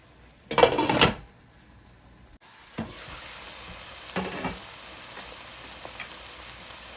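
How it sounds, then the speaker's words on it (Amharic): Tomatoes and onions frying in a pan for an Ethiopian fasting dish, a soft continuous sizzle after a brief loud clatter at the start, with a few faint stirring scrapes. "ቲማቲሙ በደንብ መብሰል ስላለበት አብሮ ደግሞ አሁን ጥብስ እናደርገዋለን ማለት ነው።"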